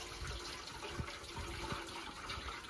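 Water is poured into a motorcycle's fuel tank, a faint continuous rushing, splashing trickle with a few soft knocks.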